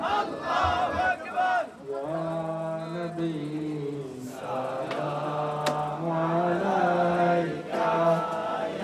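Crowd at a Sufi dargah gathering (Shahpur Darbar Sharif) chanting in unison in response to a Nara-e-Takbir call, loud massed voices with sustained harmonic tones filling the whole stretch.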